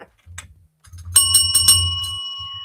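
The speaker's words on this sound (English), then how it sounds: "Darn Cricket's got the bell down there" A small bell rings in a quick cluster of three or four bright strikes close by, its tone decaying slowly over a low background hum.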